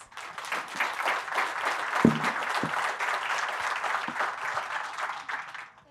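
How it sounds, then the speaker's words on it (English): Audience at a sustainable real estate conference claps for panelists, a moderate, even patter of many hands with a few sharper individual claps standing out, fading at the very end. "Please join me in giving our panelists a round of applause"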